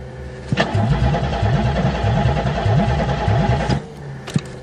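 A car engine cranks on a cold March morning, the starter churning in a fast rhythmic grind for about three seconds without catching, then cutting off, followed by a brief click, loud and close.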